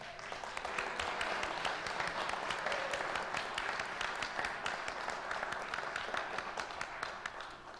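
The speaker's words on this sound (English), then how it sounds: "And I think that deserves some applause there." A crowd at a Kalamazoo city commission meeting applauds steadily, a full continuous wash of clapping hands that holds at an even level for several seconds.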